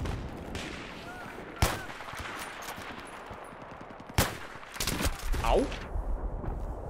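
Gunfire in the video game Battlefield 3 comes through in sharp sniper-rifle-like cracks over a steady game-noise bed, two isolated loud shots followed by a busier cluster, with a man briefly exclaiming.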